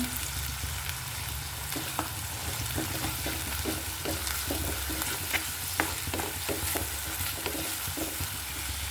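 Steady oil sizzle with frequent scraping and stirring clicks as onions, green chillies and ginger are sautéed in a pan for fish curry, continuous and fairly close, no voices.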